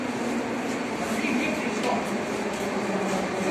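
Metro train pulling into Palats Sportu station, a steady roaring rumble and hiss of the underground train filling the platform, moderately loud and continuous with no clear speech.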